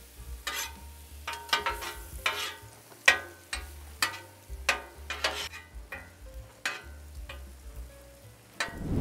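Onion and bell peppers fry in butter for a Philly cheesesteak, with a steady close sizzle and repeated sharp scraping clicks of a utensil stirring the pan, no talking.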